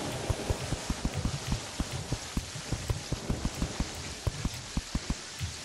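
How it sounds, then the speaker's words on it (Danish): Rain from the Terraria video game falls as a steady, dense hiss with many sharp droplet taps scattered throughout, loud and continuous with no talking. "Jeg synes, det regner meget i det spil her."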